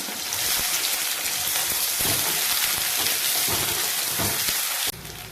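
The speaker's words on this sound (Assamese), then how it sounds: "ইয়াতে এই কাটি থোৱা পিঁয়াজখিনি পেলাই দিম আৰু অলপমান ভাজি দিম" Chopped onions frying in mustard oil in a wok make a loud, even, close sizzle with faint stirring scrapes, continuous until it cuts off near the end.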